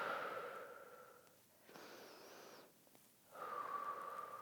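Breath is exhaled during a prenatal exercise, several soft, close breaths, sighing outbreaths alternating with quieter inhales, with no speech.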